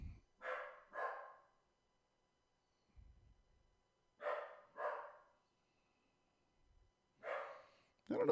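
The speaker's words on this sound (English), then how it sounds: "I don't know what my dog is barking at." A dog barks indoors in pairs of sharp, moderately close barks, three double bursts spaced a few seconds apart, with quiet gaps and faint low thumps between them.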